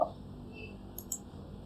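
A computer mouse gives a couple of faint, crisp clicks in a quiet room, one short tick followed by another a moment later, with no talking.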